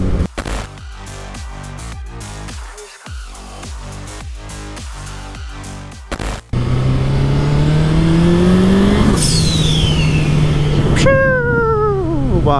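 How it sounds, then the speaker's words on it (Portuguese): A turbocharged Suzuki Hayabusa engine climbs hard through gears with a rising whine, then a sharp hissing whoosh from the blow-off valve as the revs drop, loud and close. "Barulho da válvula de prioridade dessa moto é a coisa mais linda do mundo."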